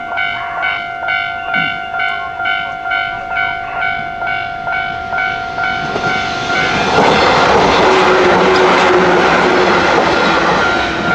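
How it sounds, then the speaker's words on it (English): A train rolls past nearby at unusually slow speed, its rhythmic wheel clatter repeating steadily before swelling into a loud, broad roar as it goes by. "Here comes a train."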